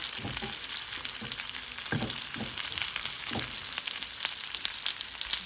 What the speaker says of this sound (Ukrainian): На пательню викладаю там ложку чи дві розтопленого вершкового масла і обжарую